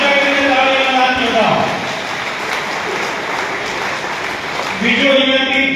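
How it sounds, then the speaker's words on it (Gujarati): Loud applause from a crowd at a Patidar community gathering in Junagadh, a steady dense roar of clapping that runs the full length, swelling slightly at the start and end. "એક વખત જોરદાર તાળીઓથી આ ક્રાંતિકારી યુવાનને જોરદાર તાળીઓ"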